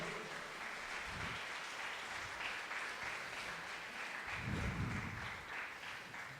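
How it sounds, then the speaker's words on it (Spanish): A church congregation applauds God at a sermon's close, a soft, distant wash of clapping that carries evenly with a low rumble swelling midway. "Dele fuerte el aplauso a Dios."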